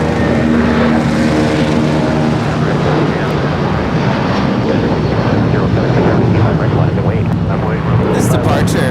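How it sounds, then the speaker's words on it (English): A United Airlines Boeing 757-300 departs Los Angeles International Airport with a loud, sustained engine roar and broadband rumble that fills the whole stretch, with wind buffeting the microphone. "This departure is United Airlines 1224 departing to Honolulu. It's 757-300."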